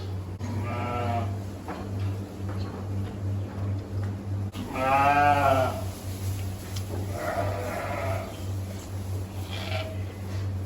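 Ewes and lambs bleat repeatedly in a barn at the peak of lambing season, several loud close calls spaced apart over a constant low hum.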